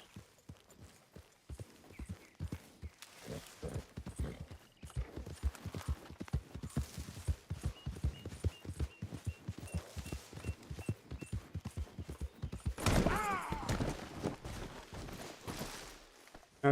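In Red Dead Redemption 2, a horse's hooves clip-clop at a quick, steady trot on a road. The hoofbeats are close and fairly faint, and a brief louder burst of activity comes near the end.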